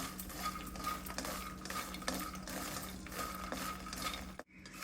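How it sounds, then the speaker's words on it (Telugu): Fox nuts (makhana) roasting in ghee on low heat, a steady soft sizzle under continuous scraping and stirring of a spoon against the pan, with a brief break near the end. "సిమ్లో పెట్టి రోస్ట్ చేసుకోవాలి."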